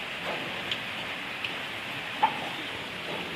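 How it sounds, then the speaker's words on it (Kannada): Rain falls over a village in a steady, soft hiss, with a few louder drops ticking now and then. "ಹಿಂಗೆ ಮಳೆ ಬತ್ತಂದ್ರೆ ಬೆಳೆನೂ ಚಂದ ಬರ್ತೈತ್ರಿ"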